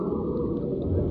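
A killer whale (orca) vocalizes on a TV nature broadcast, a steady, dense low rumble that fills the whole short stretch at moderate level with no talk over it.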